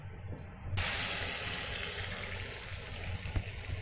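Liquid is poured into a cooking pot holding mustard seeds, turmeric and salt, starting abruptly as a loud, steady hissing rush that continues to the end, with a brief clink near the close.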